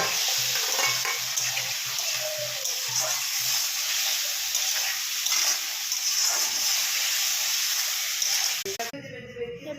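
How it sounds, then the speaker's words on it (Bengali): Boiled potatoes sizzle and fry in oil for a pabda fish curry, with steady crackling and occasional stirring scrapes throughout, ending with a brief clatter near the close. "এবার সিদ্ধ করা আলুগুলো দিয়ে একটু কষিয়ে নেবে"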